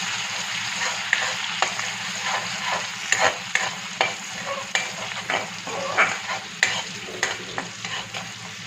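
Spring onion whites fry in a pan for a chilli chicken dish, a continuous sizzle under frequent scraping and tapping stirs at an uneven rhythm, close and moderately loud.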